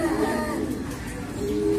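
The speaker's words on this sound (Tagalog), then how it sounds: "Nirelease yung ibon." Racing pigeons coo nearby just after release at a race, soft low throaty calls rolling over one another in a brief burst.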